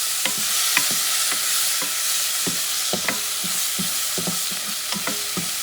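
Salmon and sausage sizzle in a pan under a constant hiss, while a utensil stirs and scrapes against the pan in repeated close, irregular clacks.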